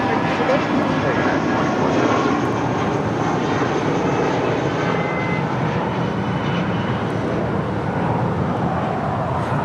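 United Airlines Airbus A319 departing runway 25 right at Los Angeles International Airport, heard as a continuous, fairly loud jet engine roar holding steady throughout, with a voice talking over it.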